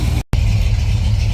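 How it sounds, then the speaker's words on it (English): Ford F100 truck engine idling at about 700 RPM, a steady low rumbling drone heard close and loud, broken only by a very brief dropout, with no talking. "We're hanging out about what, 700 RPM, idling."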